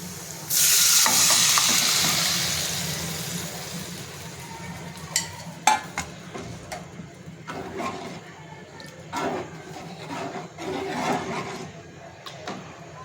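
Dal and peanuts mixed into amaranth-leaf greens hit a hot tempering with a loud burst of sizzling that fades into a steady fry, broken by repeated clattering stirs of the spoon.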